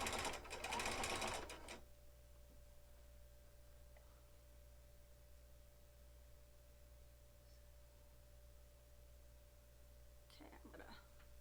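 A sewing machine quilting fabric, with a loud burst of stitching in the first two seconds, then a steady low motor hum and a faint rustle near the end.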